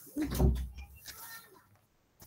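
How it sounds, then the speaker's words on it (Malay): A few brief knocks on a door at home, fairly quiet and short, trailing off into near silence. "Ketuk dah pintu."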